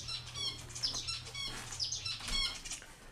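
Busy, repeated bird chirps and tweets fill the space at close range, overlapping in quick irregular bursts above a low steady hum, with no talking.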